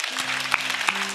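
Brief burst of church congregation clapping during a Sunday worship service, moderately loud, with sustained organ or keyboard chords holding underneath.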